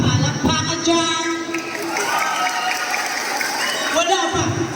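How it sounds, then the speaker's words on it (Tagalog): Audience applause at a gay pageant costume competition in Aguilar, Pangasinan, steady clapping mixed with cheers and music tones, sustained for several seconds. "Wala pa, palakpakan dyan."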